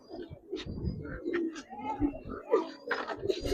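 Giribaz pigeons coo in soft repeated low calls close by, mixed with small chirps and rustling, a few faint voices in the background.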